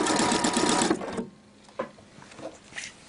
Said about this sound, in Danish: Og vi syr ind til maskinen stopper.